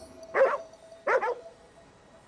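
Dog in the video game Ghostwire: Tokyo giving two short, clear barks about a second apart, close and fairly loud against a quiet backdrop.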